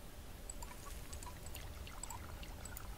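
Water pours in the survival video game Subsistence, a steady liquid trickle with light splashing drips running throughout, moderately faint and with no talk.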